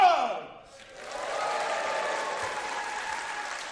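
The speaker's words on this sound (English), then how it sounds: "the more we all clap and cheer" A studio audience claps and cheers, a sustained wash of applause that swells after a brief dip and holds steady, moderately loud, with a few voices mixed in.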